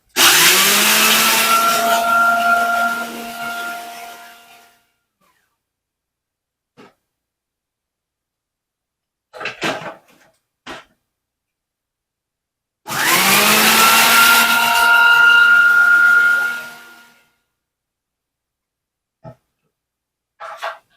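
Two loud bursts of a small food processor's whirring motor chopping cornflakes, each lasting a few seconds, separated by quiet pauses with small clicks and knocks.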